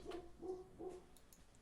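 A dog barks three times in an even rhythm, faint and somewhat distant, in an otherwise quiet room.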